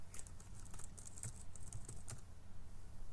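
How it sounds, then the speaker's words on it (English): Steady clicking of typing on a computer keyboard, fairly quiet and continuous, with irregular keystroke bursts and no voices. "when I'm typing on the video, it goes like so"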